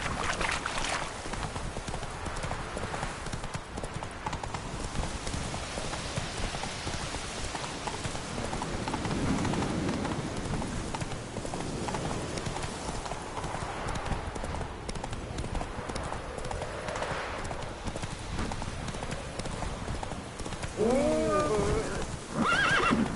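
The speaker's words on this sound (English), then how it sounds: "Run, Roach." Hooves clip-clop in a quick, steady galloping rhythm as a horse runs in The Witcher 3: Wild Hunt, continuous and mid-distance, with rain-like background noise and a brief whinny near the end.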